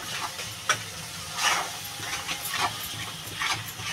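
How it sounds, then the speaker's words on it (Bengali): Spice masala sautéing in oil in a pan for a Bengali fig curry makes a soft, continuous sizzle, with a few brief stirring scrapes rising above it; no voices. "ভালো করে কষাবো, যতক্ষণ পর্যন্ত মশলাটা তেল না ছাড়বে ততক্ষণ পর্যন্ত আমি মশলাটা কষাবো।"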